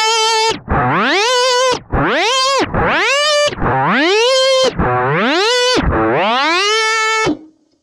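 A distorted electric guitar on a Line 6 Helix with a whammy pedal set after the amp distortion, six loud repeated pitch sweeps each diving low and gliding back up in a steady rhythm.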